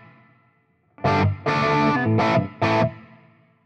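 Electric guitar played through a Fender Tone Master Pro with a large plate reverb, four loud strummed chords in uneven rhythm, each ringing into a lush reverb tail that decays after the last one.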